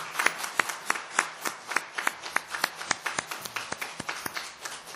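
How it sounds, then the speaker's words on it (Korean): A church congregation claps in celebration for the choir, conductor and accompanist, a steady run of sharp, slightly uneven hand claps over about five seconds, moderately loud with no talking. "축하의 박수."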